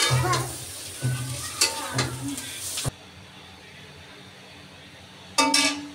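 Shrimp with onion sizzle in a frying pan, with a few bursts of close stirring and frying noise, then a quieter stretch before a last short scrape.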